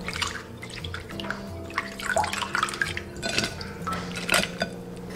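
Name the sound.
rinsing black tiger prawns in water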